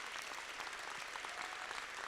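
Brief, fairly faint applause from an audience, a dense even patter of many hands clapping without pause.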